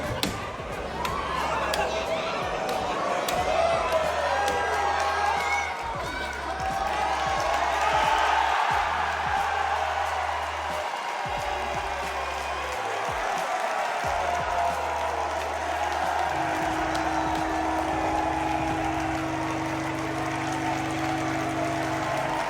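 A large stadium crowd at a chess event roars and cheers in a constant wash of noise while a voice speaks over it throughout.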